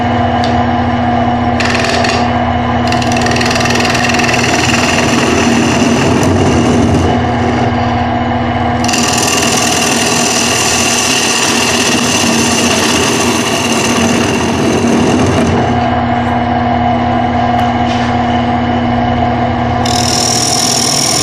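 A skew chisel shaves a wooden box spinning on a wood lathe, the motor's steady tonal hum running loud and continuous while the cutting hiss swells and fades in long stretches, with no talking.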